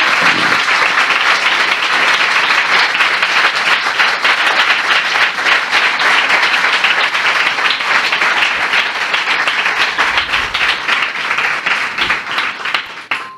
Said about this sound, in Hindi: आइए हम अपने महान प्रभु के लिए एक जोरदार ताली बजाएं।